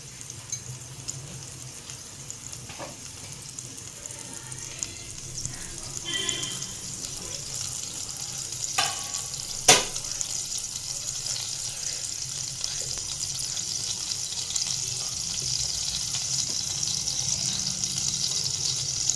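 Whole spices (cinnamon, cloves, star anise and kalpasi) fry in hot oil for a chana dal kuzhambu, a soft, steady sizzle throughout with a sharp clink near the middle.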